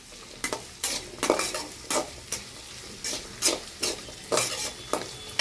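Onions sautéing with chillies in oil on a slow flame: a steady, close sizzle broken by about a dozen regular scraping stir strokes of a spoon against the pan.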